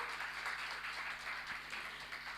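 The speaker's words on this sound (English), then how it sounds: "Another round of applause for Dr. Klaus, please." An audience at a medical symposium on lupus applauds in a soft, even patter that sounds faint and distant, with a low electrical hum underneath and no speech.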